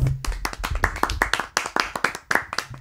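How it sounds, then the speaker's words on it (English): A group claps in a run of sharp, irregular hand claps at an awards show for video games, close and fairly loud, with faint voices underneath. "Can we get a clap for that?"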